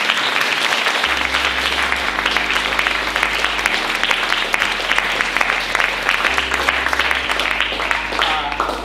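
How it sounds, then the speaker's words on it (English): Sustained, loud audience applause fills a hall, dense and steady throughout, with a low hum underneath and a faint voice rising near the end. "Please give him a round of applause"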